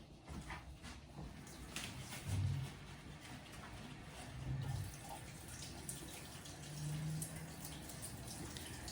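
Tap water runs steadily into a kitchen sink while raw fish is rinsed for ceviche, a continuous close hiss with faint splashes and small clatters, no talking.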